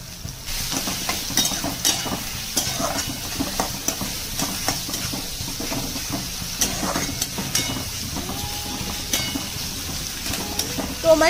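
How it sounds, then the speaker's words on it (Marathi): Finely chopped tomato hitting onion in a hot pan, a continuous sizzle and hiss with repeated scraping stir strokes, busy and close, with no talking. "त्यानंतर बारीक चिरलेला टोमॅटो घालूयात।"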